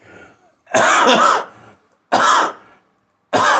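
Three harsh, heavy coughs in a row, loud and close, with brief gaps between them and no speech.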